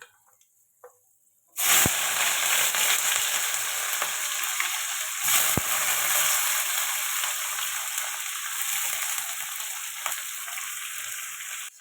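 Sliced onion drops into hot oil and bursts into a loud, steady sizzle that keeps crackling and hissing close by, with a couple of stirring clinks and no talking.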